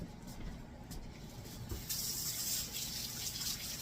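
Tap water runs into a sink as shrimp are rinsed, a soft, steady splashing stream that grows brighter and fuller about halfway through, with no voices.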